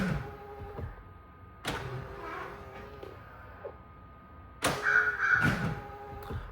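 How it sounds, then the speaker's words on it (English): A few electronic caw-like crow calls from a Rivian car's Halloween sound effects come in short bursts separated by quiet stretches, with a faint steady hum running underneath. "So that is your crow sound effect."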